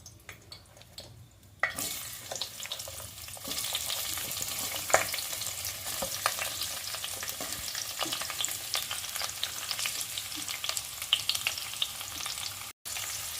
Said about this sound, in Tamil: 2 வெங்காயம், 2 பச்சை மிளகாய், கொத்தமல்லி, புதினா இவ்வளோத்தையும் இதில் சேர்த்து வதக்கணும்.